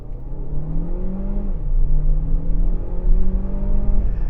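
Chery Tiggo 8 Pro engine revving steadily after a manual downshift, a loud continuous drone with pitch rising and falling across the whole stretch, heard from inside the cabin with no talking.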